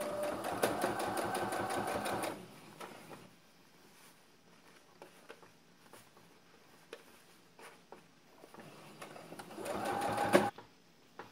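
A sewing machine runs a long straight seam joining the gathered back bodice to the skirt of a backless frock, whirring loudly in two bursts with quieter rustling of fabric handling between.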